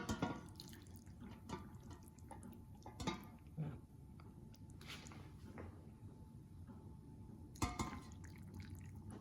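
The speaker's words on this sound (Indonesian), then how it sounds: "kita cuma tinggal tuang kuahnya aja" Broth for a wonton and tofu soup with meatballs is poured into a bowl, heard as soft liquid splashing and dripping with a few light clinks of dishware, close by and quiet over low room noise.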